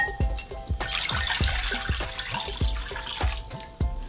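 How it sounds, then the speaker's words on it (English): Water poured from one bowl into another bowl, a steady splashing pour with repeated drips and trickles, close and moderately loud, no talk. "now I've got my 4 cups of water. I'm going to transfer this to another bowl"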